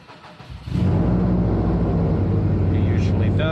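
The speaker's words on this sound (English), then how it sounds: "Don't panic if the car turns over more than usual." A 2017 Subaru STI cranks over briefly and then catches, and the engine settles into a loud, steady idle close to the microphone.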